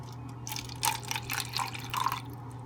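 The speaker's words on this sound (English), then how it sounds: "I am going to put some of the water inside my cup" Water poured from a container into a cup, a light splashing trickle in a few short bursts over steady background hum, with no talking.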